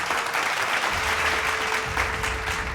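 Steady, dense applause from a crowd at a business conclave in Rajasthan, sustained and fairly loud throughout with no pauses.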